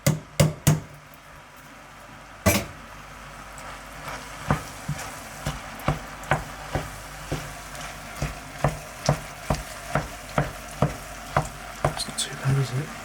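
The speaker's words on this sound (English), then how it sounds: "I'm going to stir that in, see how that goes." A spoon stirs chopped tomatoes into a lasagna sauce in a pan, making a rhythmic series of scraping knocks over a soft background sizzle that start spaced out and come faster toward the end.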